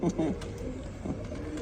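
A sick pigeon coos in a few low, soft throaty calls near the start, with a steady background hum.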